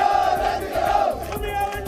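Crowd of protesters at a rally in Sanganer, a dense continuous roar of many voices with rhythmic chanting pulses, fairly close and loud throughout.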